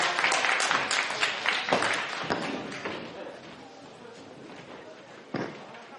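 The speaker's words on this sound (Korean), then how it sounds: "힘차게 3부 박수로 마치도록 하겠습니다." An audience at a Korean public forum applauds, a scattered round of clapping with sharp individual claps that thins out over several seconds, a few louder slaps standing out near the end.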